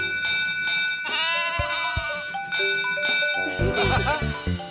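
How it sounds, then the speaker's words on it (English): Cartoon lambs bleat in quick wavering calls alongside the ringing of a toy train's bell, bright harmonic tones layered over a busy musical backdrop, with chirpy bursts toward the end. "Those little lambs just love the sound of my bell."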